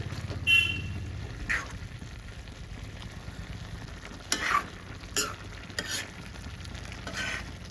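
A spoon stirs cabbage curry in a pan in occasional scraping bursts over a soft, continuous sizzle, close up with no talking.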